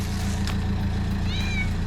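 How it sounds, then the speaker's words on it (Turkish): A cat gives a short meow over a steady, rumbling idling engine. "Kedi sesi duydum."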